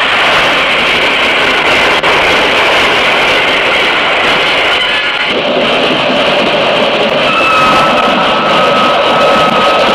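The Flying Scotsman steam locomotive runs past, a loud, continuous, unbroken roar and hiss of steam and wheels that holds steady throughout.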